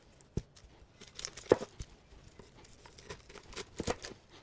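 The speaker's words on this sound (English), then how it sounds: "Onion, gonna dice it." A knife dicing an onion on a cutting board during goulash prep, with scattered sharp taps and soft crinkly cuts at an irregular pace, close and fairly quiet.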